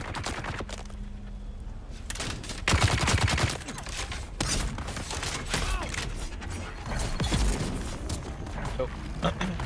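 Gunners fire rapid bursts in the Dune Awakening video game, clattering volleys mixed with mechanical creaks, while a person talks over the action.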